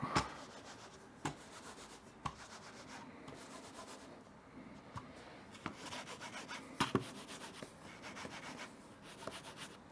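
An EVE mouse sliding and scraping across an EVE mouse pad in a steady rubbing rhythm, close up, with occasional sharper clicks or taps.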